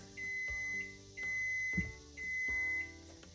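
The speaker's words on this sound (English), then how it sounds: "that beeping means it's time to check on the egg whites." Three long electronic beeps from a kitchen timer during egg-white cooking, each lasting under a second and evenly spaced, loud and close with no talking.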